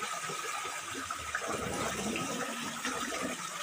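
Water rushes steadily at Dinulugayan waterfall in Northern Samar, a broad continuous roar heard close without any break.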